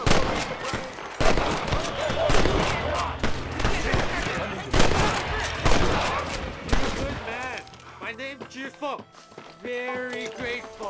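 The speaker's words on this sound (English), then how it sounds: "Whom's this shooting? I want to shoot as well." Rapid bursts of gunfire from a Red Dead Redemption gunfight, loud and dense volleys of shots for most of the stretch, with talking and music-like tones taking over near the end.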